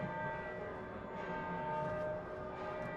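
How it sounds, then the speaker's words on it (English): A large victory bell rings continuously after a football game in Ohio Stadium, rich sustained overlapping tones, steady and moderately distant, with faint crowd noise underneath. "I love that victory bell after the game"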